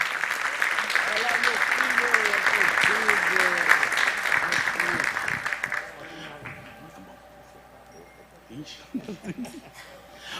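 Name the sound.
church congregation applauding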